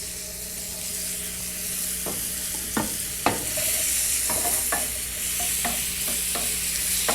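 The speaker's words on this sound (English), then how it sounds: "it only takes a couple of seconds to saute these up, just to get that flavour in there" Small garnishes sautéed in hot oil with asafoetida, giving a steady sizzle beneath scattered sharp clicks and scrapes of a spoon stirring in the pan, close and moderately quiet, with no talk.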